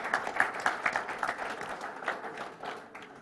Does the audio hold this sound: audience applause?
yes